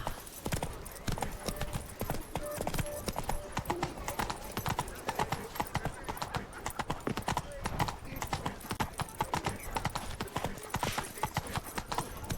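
A horse's hooves clip-clop steadily at a trot in the video game The Witcher 3, rhythmic and close throughout, with occasional game voices over the hoofbeats.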